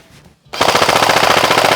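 A Classic Army DT-4 double-barrel airsoft rifle with high-capacity magazines fires full auto at close range. It opens with a sudden, loud, rapid, even rattle that keeps going without pause.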